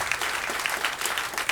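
Audience at a standup comedy show applauding: dense, steady clapping from a crowd, close and loud, lasting the whole moment without a break.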